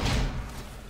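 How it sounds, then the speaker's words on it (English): A single short, punchy thud with a brief burst of noise, over quickly and fading into a dull wash: a Mistweaver Monk's short-range stun ability in World of Warcraft. "That number 5 ability down there is a short-term, short-range stun ability"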